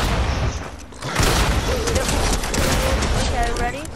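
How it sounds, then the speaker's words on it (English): Enemy shotgun blasts in Fortnite, several loud bursts of gunfire in a cluttered battle mix of rapid shots and impacts, with no clear pause between them. "Start shooting at me, and they've got that annoying shotgun."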